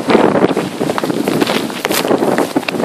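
Strong gusting wind from a tropical storm during rain in New York City buffets the microphone, a steady loud roar with surging gusts and rustling throughout.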